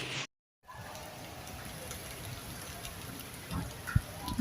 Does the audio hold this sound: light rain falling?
yes